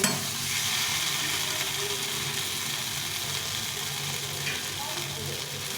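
Rohu fish curry with tomato masala paste sizzling and bubbling in a pan as water goes in, a steady broad frying hiss with faint stirring throughout.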